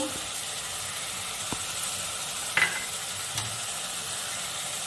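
Masala of tomato, salt, cumin and turmeric frying in a pan, a soft steady sizzle with a couple of brief stirring scrapes and taps, fairly quiet.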